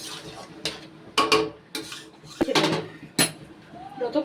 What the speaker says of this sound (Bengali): ভালোভাবে আমি ওপর নিচ করে নেড়ে দিচ্ছি